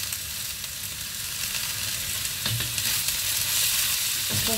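Pig liver sautéing in a pan with vegetables for igado, a steady close sizzle and crackle broken by a few scraping stirs.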